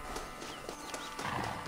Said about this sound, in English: Oh, this is a 4-horse stagecoach.